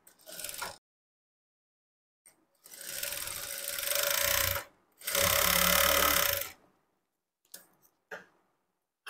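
A sewing machine stitches along the edge of a blouse lining in two steady bursts of whirring with short pauses between, close and fairly loud, with faint handling sounds around them.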